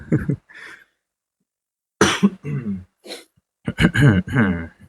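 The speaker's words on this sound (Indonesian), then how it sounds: "Sampai batuk-batuk aku." A person coughs in a few harsh, close bursts, with pauses of near-silence between them and a short run of throaty coughing toward the end.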